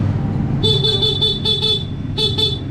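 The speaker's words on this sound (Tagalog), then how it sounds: "stock horn" The stock horn of a Honda Click scooter honks in a run of loud, close, bright beeps, some short and some held, sounding after a brief pause over a low idling hum.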